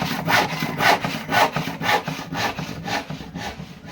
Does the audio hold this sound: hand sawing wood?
yes